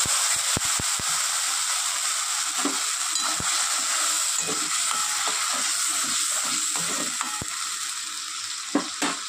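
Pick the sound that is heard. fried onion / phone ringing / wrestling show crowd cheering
fried onion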